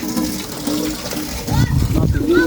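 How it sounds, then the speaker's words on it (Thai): Water pumping at a bathroom floor-pouring job, a steady watery rush and churn running throughout, growing louder and busier in the second half, with people talking nearby. "กำลังสูบน้ำพี่น้องเอ้ย"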